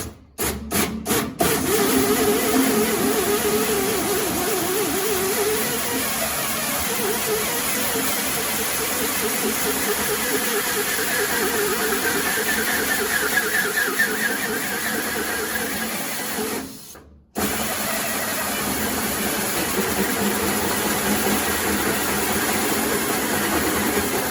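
A Model A hot rod engine runs steadily and close up, a continuous rough mechanical drone with a brief dropout near the end, no talking over it.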